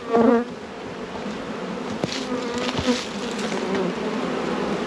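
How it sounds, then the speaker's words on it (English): Honey bees buzzing in a dense, continuous hum around hives at an apiary during the honey harvest, with a few closer bees droning past at moments. "you can see not many bees fly in"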